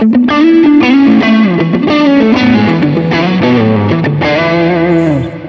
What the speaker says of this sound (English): There's like a bit of fuzz in there in that distortion.